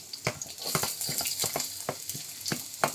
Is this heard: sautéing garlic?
yes